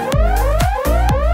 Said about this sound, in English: the light alarm and siren will be triggered immediately